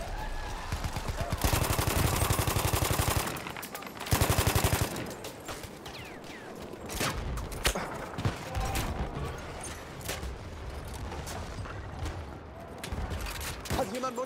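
An MG14/17 machine gun in Battlefield 1 on the Amiens map fires in long, rapid sustained bursts, loud and close, followed by scattered single shots, mechanical clanks and distant gunfire, with game voices calling out briefly.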